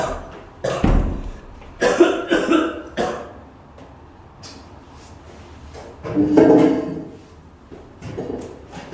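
Several harsh coughs come in short bursts, with a few dull knocks and shuffling sounds between them in a quiet room.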